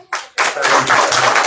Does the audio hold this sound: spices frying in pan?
no